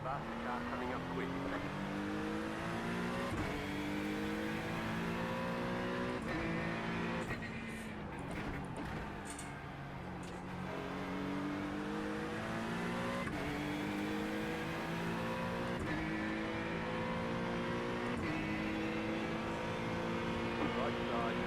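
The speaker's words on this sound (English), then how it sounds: "Faster car coming up quick." Race car engines drone steadily at Daytona in an iRacing endurance race, with rising and shifting gear pitches as a faster car closes in. The engine sound is loud and continuous throughout, with brief talk partly over it.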